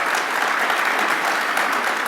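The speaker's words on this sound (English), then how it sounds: "Applaud if you think so." Theatre audience clapping after a play, a dense steady burst of applause from a full house with no talk over it.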